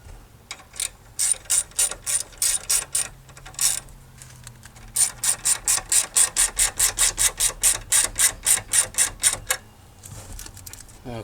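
A hand ratchet clicks in quick, evenly spaced bursts, tightening the battery hold-down on a 2007 Honda Odyssey, with a short pause between two runs of crisp repeated clicks close by.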